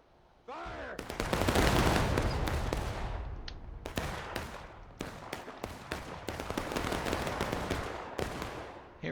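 Musket volleys ring out in the War of Rights video game during a Civil War battle at Piper Farm: a loud crashing volley, then a steady stream of scattered near and distant rifle shots with rumbling echoes.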